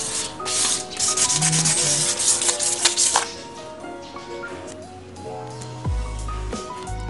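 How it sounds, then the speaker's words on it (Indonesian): Close-up scratchy rubbing of sandpaper against a metal motorcycle wheel rim, a Yamaha Jupiter Z1, in repeated strokes, with some faint ringing tones and clatter in the background. "Kita amplas sampai seperti ini."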